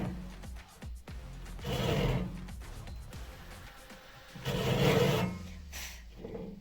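A blade cuts a small notch into a wooden frame in two bursts of rasping, scraping strokes, close and moderately loud, separated by quieter clicks and handling.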